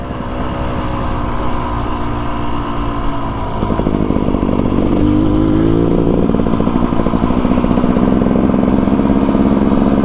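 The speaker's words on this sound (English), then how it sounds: "I don't even have to turn around because I can hear Chad's 4-stroke behind me" A four-stroke dirt bike engine running close by on a mountain-pass adventure ride, a steady droning rumble that swells and climbs in pitch partway through, then stays loud and constant to the end.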